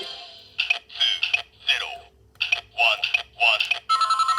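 A DX K-Touch toy phone plays a loud electronic ringing sequence: bright, warbling synthetic tones and sweeping chirps in repeated bursts, ending in a rapid pulsing ring tone, close and alone.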